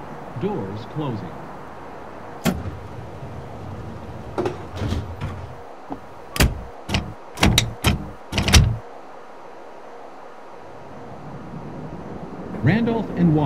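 Chicago Brown Line train doors closing in the Railfan video game: a chime of sharp tonal pings is followed by a sliding thud as the doors shut. Before the chime, a recorded announcement voice speaks over the hum of the train.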